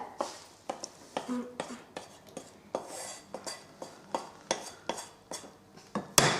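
Fried onion is tipped into dumpling filling in a bowl, giving a series of light clinks and taps of a utensil against the dish, spaced roughly every half second, close by and with no talk.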